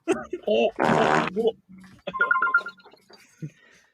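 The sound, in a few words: fart sound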